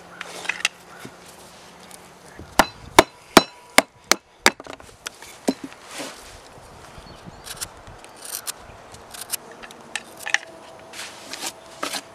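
Stone being roughed out into a base for pulverizing charcoal, with a run of sharp, loud percussive strikes early on, then scattered lighter knocks and scraping, outdoors with no talk.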